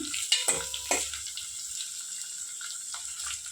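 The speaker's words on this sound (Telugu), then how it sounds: "ఇప్పుడు దీంట్లోకి కరివేపాకు కూడా వేసేసుకుందాం" Curry leaves dropped into hot oil for Telugu buttermilk rasam give a steady close sizzle and crackle, with a few sharp pops and clinks of stirring near the start, then settling into a continuous frying hiss.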